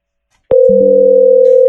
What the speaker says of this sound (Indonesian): Lalu kita coba telepon nih dari device yang lain, apakah tersambung atau enggak.